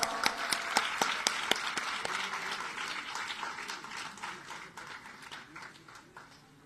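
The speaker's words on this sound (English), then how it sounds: "A loud round of applause." A round of applause from an audience at a spiritual talk held at Punjabi University in Patiala, opening with strong clapping and sharp claps that gradually thins and fades out.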